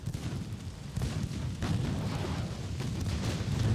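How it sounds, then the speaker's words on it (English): A warship launches a torpedo in the naval battle game Ultimate Admiral: Dreadnoughts. It comes as a soft muffled thump within a steady low rumble of distant gunfire and sea ambience, fairly quiet and with no voices. "There's the torpedo heading out from S8."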